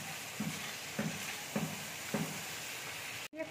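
Spices with turmeric and salt stir-fried in a pan, a steady sizzle broken by four evenly spaced scraping strokes of a spatula, then a sharp knock near the end.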